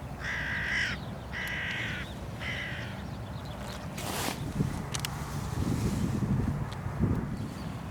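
A hooded crow gives three harsh caws in a row, clear and moderately distant over gusty wind noise, followed by rustling and a few faint thumps like movement nearby.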